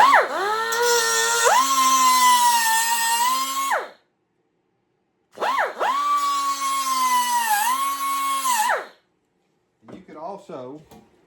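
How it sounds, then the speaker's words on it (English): An angle grinder bites into a motorcycle front fender in two long whining passes, each a few seconds long, with the pitch dipping under load. It sounds loud and close, separated by a pause, and a brief squeal follows. "I'm going to run back in here with this grinder"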